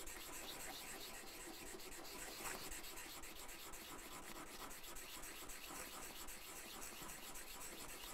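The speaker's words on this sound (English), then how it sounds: "I keep going with the abrasive here into that corner to get it nice and even across the hole until I have a burr on that underside." A wooden spokeshave blade rubbed steadily back and forth on an abrasive to raise a burr on its underside, giving a continuous, even scraping hiss that runs close and fairly quiet throughout with no talk.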